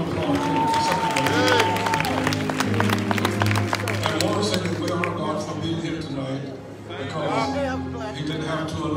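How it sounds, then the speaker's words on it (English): An audience at a live gospel concert claps and cheers, with a busy wash of applause mixed under crowd noise and people talking. "Let's give a big round of applause to her."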